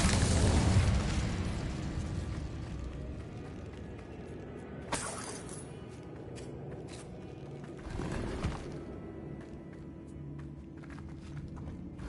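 The Incendio fire spell is cast in the game Hogwarts Legacy, with a loud whooshing burst at the start that fades into a crackling rumble, followed by softer bursts and quiet footsteps.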